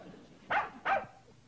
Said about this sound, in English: That's not our dog.